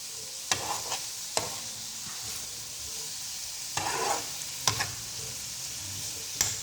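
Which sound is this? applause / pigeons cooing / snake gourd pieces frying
snake gourd pieces frying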